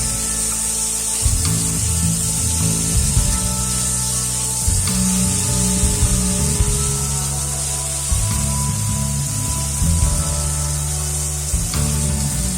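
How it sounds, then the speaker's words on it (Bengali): Fish pieces and salt stirred in a hot pan of oil for chara pona fish curry, a steady loud sizzle broken by repeated scraping and knocking of a utensil against the pan. "লবণটা দিয়ে আরও এইভাবে 2 থেকে 3 মিনিট ভালোভাবে নেড়ে নিতে হবে।"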